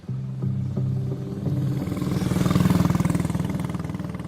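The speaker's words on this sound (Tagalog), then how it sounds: "Pinaandar ulit ni Kiko ang motor at pumasok kami noon sa Baryo Ursula." A motorcycle engine in a village setting rumbles steadily at first, then revs up into a louder, pulsing drone as it pulls away, with no one speaking.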